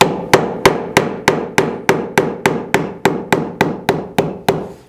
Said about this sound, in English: So then I'm going to coax the bend over with my hammer.